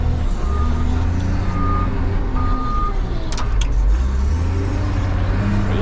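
A vehicle's reversing alarm beeps repeatedly while backing up, faint evenly spaced tones over a loud low engine rumble and road noise.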